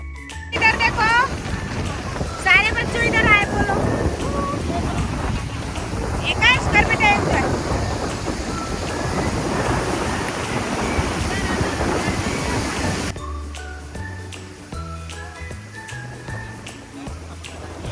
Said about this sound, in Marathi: इथं साईडला हा धबधबा असल्यामुळे ना खूपच पाण्याचा आवाज येतोय